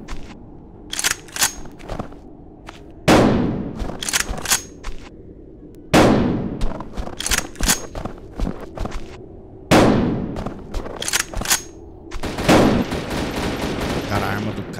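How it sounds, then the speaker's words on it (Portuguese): Bursts of automatic gunfire in the video game Farmer's Father: Save the Innocent, loud and close, erupting about every three seconds with scattered single shots and clanks between them. "É rajada, pai."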